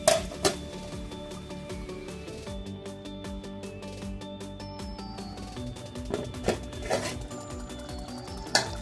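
A lid set over a pot of chicken dehati cooking on low flame, giving a few sharp metallic clanks at the start and near the end over a steady background of music.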